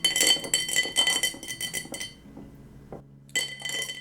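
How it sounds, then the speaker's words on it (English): A bar spoon stirs a mint julep made with a 10- to 12-year bourbon, ice clinking and rattling against the glass in quick bursts, pausing briefly before a final burst of close clinks. "I'm going to give it just a stir now."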